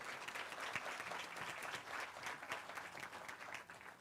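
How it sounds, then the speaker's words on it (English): Steady applause fills a hall at a nursing white coat ceremony, many hands clapping in a dense even wash from an audience, moderately loud and continuous throughout with no voices on top. "please give him a round of applause as he approaches"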